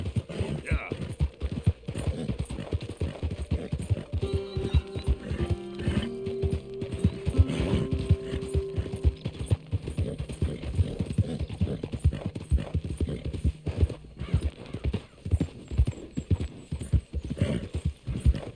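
Rhythmic clip-clop of horse hooves trots steadily throughout, with a horse whinnying partway through and faint game sounds mixed in, in the game Red Dead Redemption 2.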